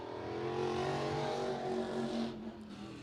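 Race car, the number 61 on a Swartz chassis, running its first lap at Willamette Speedway, with a steady engine drone at moderate distance throughout and a slight dip near the end.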